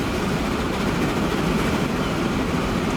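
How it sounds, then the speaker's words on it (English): A coal train rolls past in the railway game Transport Fever 2, a steady dense rumble of wheels and wagons at constant loudness throughout, with no pauses or distinct clicks. "That is a coal train."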